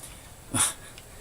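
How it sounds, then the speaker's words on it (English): Single short dog bark or huff outside, faint and distant, alone over quiet room tone. "dog's barking outside, sorry."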